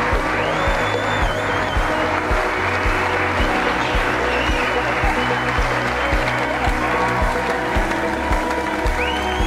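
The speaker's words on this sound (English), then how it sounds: "So let's give them a round of applause." Wedding guests at Formby Hall break into sustained applause, a dense, steady wash of clapping from a sizable crowd in a room, with music or murmuring voices faintly underneath throughout.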